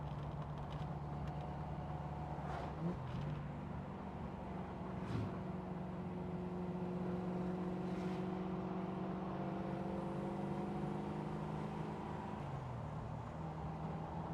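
A tractor passes a car on a country road on Australia Day between Gympie and Boreen Point, a steady low engine drone with shifting tones that rises and then fades, heard from inside the moving car over constant road noise.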